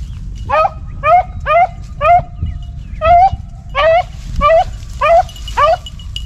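A five-month-old rabbit-hunting puppy yips in a quick series of high, sharp barks in short bursts, close and loud over a low outdoor rumble.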